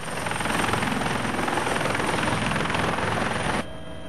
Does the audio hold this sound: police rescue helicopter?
yes